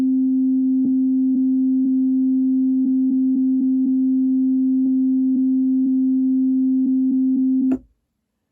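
A steady sine tone from a Korg wavestate synthesizer's rhythm loop holds at one pitch, with faint periodic clicks marking the steps. It plays alone and cuts off abruptly near the end.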